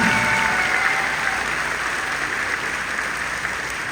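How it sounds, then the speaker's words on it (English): A crowd applauds at a school building opening ceremony, dense steady clapping that fills the full four seconds at an even level before easing slightly toward the end. "If you could, please give them a round of applause."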